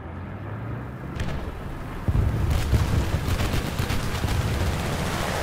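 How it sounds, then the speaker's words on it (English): Aircraft strafing run in War Thunder during a battle with an M64 tank: a dense burst of rapid gunfire and booming impacts kicks in partway, loud and sustained over rumbling engine noise. "Yeah, just got strafed."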